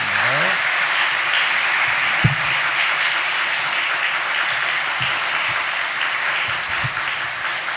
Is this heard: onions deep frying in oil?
no